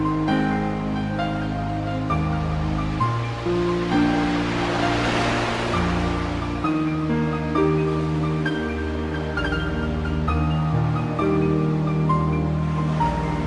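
Ocean waves wash steadily on the Kingdom Hearts video game title screen, a continuous soft surf swelling and receding beneath a calm piano melody.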